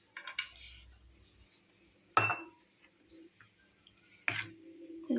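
A few sharp clinks of a metal spoon against a bowl while adding turmeric powder for fish gravy, with quiet gaps and faint kitchen sounds between them.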